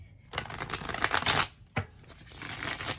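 Cards riffle and shuffle up close in two quick bursts of dense papery flutter, with a short pause between them, no voices.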